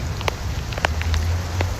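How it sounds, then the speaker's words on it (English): Rain falls outdoors onto concrete and grass in a dense, even patter, with a few sharper nearby drop ticks popping out over the continuous hiss. "So it's raining."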